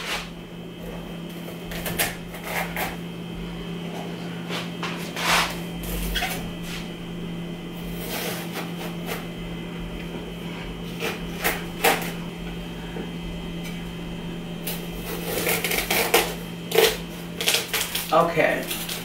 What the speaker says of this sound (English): So I'm gonna cut it down the middle.